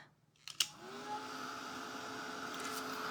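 A hair dryer blows over wet Mod Podge on a painted tissue box. A couple of clicks are followed by a steady, close whirring hum that continues to the end with no voices.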